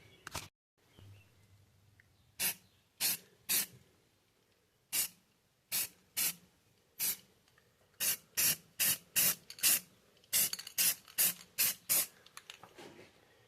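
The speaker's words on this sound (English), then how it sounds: "I cleaned off those axle shafts, and they're all ready to be painted, so let's paint them" Short bursts of an aerosol spray can painting lawn tractor axle shafts up close, about twenty sharp hissing puffs, sparse at first and then in quick clusters, with quiet gaps between them.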